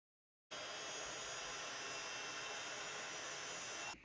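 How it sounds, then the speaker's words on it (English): Heat tool blowing hot air to emboss white embossing powder on a card, a steady loud whooshing roar that starts abruptly after a short silence and holds constant to the end. "I'm going to heat emboss those with white embossing powder"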